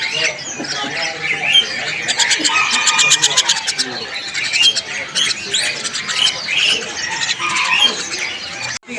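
Many small caged birds, white starlings among them, chatter and squawk in dense overlapping calls at a busy Pramuka bird market kiosk after heavy rain, with voices and background bustle mixed in.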